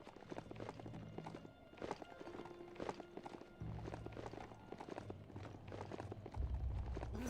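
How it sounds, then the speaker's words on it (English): Horse hooves clip-clop in a steady walking rhythm while riding along a road in the Biomutant video game, repeated close hoof strikes over low game ambience and a faint musical drone. "On the road again with my horsey."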